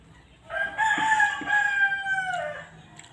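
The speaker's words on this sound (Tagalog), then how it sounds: "Yan, mga tilaok ng manok guys." A single rooster crows loudly nearby, one long drawn-out call against a quiet outdoor background.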